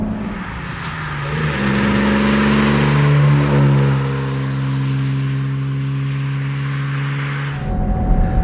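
A cold 1966 Jaguar E-Type 3.8 coupé's engine pulls through the gears while driving, a close, loud steady drone rising and holding with slight roughness before easing off near the end; no talking.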